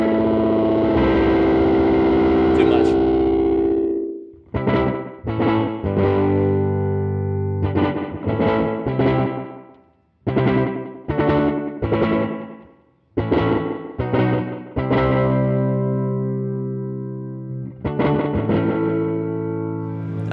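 A Fender delay pedal on its digital side with the feedback turned up plays guitar phrases, each followed by clear repeating echoes that trail off, loud and alone with no talking.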